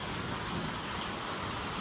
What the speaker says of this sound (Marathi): मी पहिला पाऊस बघतो असा या वर्षीचा 2026चा पहिला पाऊस.